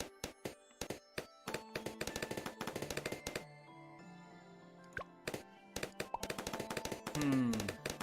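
Dartling Gunner tower in Bloons TD6 firing rapid bursts of sharp popping shots, dense rhythmic volleys with brief pauses, alongside game music and effects.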